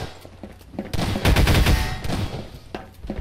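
Rapid automatic gunfire rings out in a Garry's Mod Prop Hunt match, with a short run of loud, close shots building to a dense burst and a few scattered single shots after.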